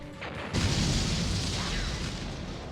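A ship blowing up in Mega Man Legends: a sudden loud roaring blast that swells and then rumbles on steadily, with a voice talking faintly over it.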